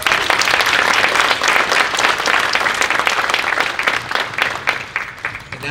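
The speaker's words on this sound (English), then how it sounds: "Let's give Jack another round of applause." An audience at a leadership conference awards session claps for an honoree, a loud, dense round of applause that holds steady and then starts to thin toward the end, with faint voices mixed in.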